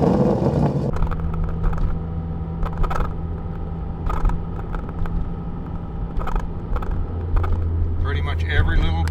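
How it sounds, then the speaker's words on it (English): Inside an ND Mazda Miata on the move, a Cravenspeed shift well rubs and creaks in short repeated bursts over steady road rumble and engine noise, close to the listener. "the shifter well is very noisy"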